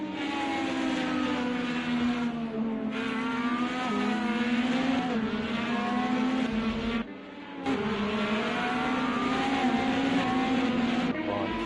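IndyCar race cars in a racing video game lap the Willow Springs circuit, engines holding a loud, steady high-pitched whine with gliding pitch shifts as they pass and shift gears, broken by two brief dips in the sound.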